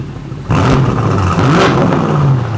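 A BMW 750 engine revs hard with its exhaust valves open, a loud deep close roar that jumps up sharply after a moment of idle and holds steady for a couple of seconds.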